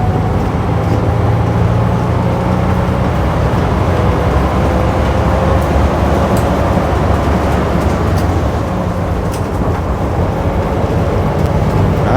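An SHMD Bristol RE bus with Northern Counties bodywork drones steadily from inside as it is driven, a dense, loud engine and road rumble with no distinct rev peaks.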